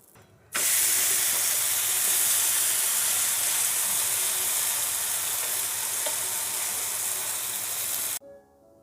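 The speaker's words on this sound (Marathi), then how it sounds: "थोडंसं त्याच्यावर तेल घालूया आणि त्याला दुसऱ्या बाजूनी पण भाजून घेऊया" A sandwich dosa fries in oil on a pan, giving a steady, close, loud sizzle and hiss that runs unbroken for about eight seconds before stopping abruptly, with no voices over it.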